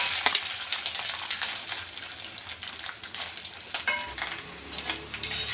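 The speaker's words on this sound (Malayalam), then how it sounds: "ഓയിൽ നന്നായിട്ട് ചൂടായിട്ടുണ്ട് നമുക്ക് ഈ തേങ്ങാക്കൊത്തൊന്ന് വറുത്തെടുക്കാം" Coconut pieces frying in four tablespoons of hot coconut oil in an iron pan, a continuous close sizzle with bursts of crackling and occasional stirring scrapes, no voices heard.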